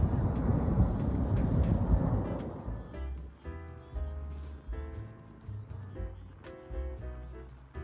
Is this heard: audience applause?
no